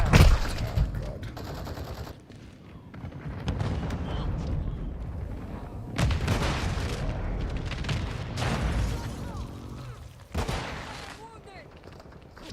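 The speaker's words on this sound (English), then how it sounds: "Friendly airstrike in the AO." Call of Duty Modern Warfare II combat with a friendly airstrike landing: repeated loud explosions and bursts of rifle and machine-gun fire, with radio-style voices and shouted talk woven through the continuous battle din.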